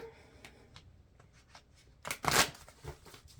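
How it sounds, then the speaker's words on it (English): Playing cards are riffled once in a quick, close burst of fluttering, preceded by soft handling taps and shuffling noises. "Okay, I'm going to give it a couple shuffles."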